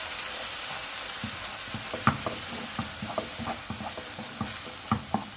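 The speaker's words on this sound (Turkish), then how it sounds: "Kıyılmış olan köz patlıcanımızı da ilave ediyoruz. Ve kavuruyoruz." Chopped roasted eggplant with minced garlic sizzles steadily in a frying pan, with a constant hiss of frying broken by several light taps and scrapes of stirring and no voices.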